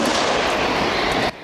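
A truck-mounted mobile rocket launcher fires on the Ukrainian front, a loud sustained roaring blast of rushing noise that fills the clip and cuts off abruptly near the end, with no talking.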